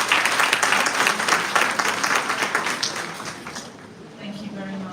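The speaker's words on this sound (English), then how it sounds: "And now you can clap." An audience in a hall applauds to welcome a keynote speaker at a college event, the dense clapping loud at first and gradually thinning out, with a voice at the very end.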